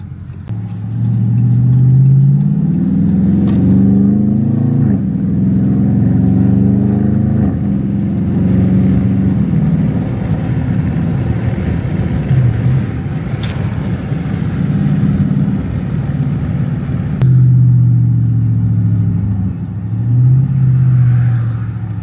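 A straight-piped Dodge Charger R/T V8 revs close and loud, its deep exhaust rumble rising and falling through several throttle blips with a crackling burble in between, sustained for over twenty seconds.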